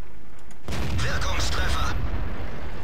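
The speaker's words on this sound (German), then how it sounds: "dennoch treffen hier drei Schüsse in Folge nichts" Tank cannon shots in World of Tanks, fired from a Tiger II: a sudden loud boom breaks out after a quiet start and rolls on as a dense rumbling blast for over a second before fading.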